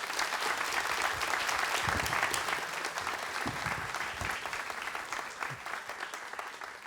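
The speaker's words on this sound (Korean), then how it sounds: "뜨거운 박수로 맞아주십시오." Warm applause from a lecture-hall audience welcoming a Hanyang University robotics professor to the stage, a dense, steady clapping that stays loud and then eases slightly toward the end.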